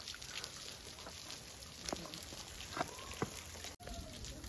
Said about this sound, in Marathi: पण आता इथं हे वरून पाणी पडतंय पावसाचं आणि आम्ही खूप एन्जॉय करतोय